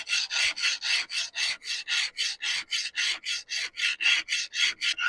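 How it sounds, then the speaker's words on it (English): Hard sharpening stone rubbed back and forth over a granite lamp base in place of sandpaper, a steady rasping scrape repeating about four times a second, close and loud with no talk. "It's a hard rock that you literally rub it and you use it in place of sandpaper."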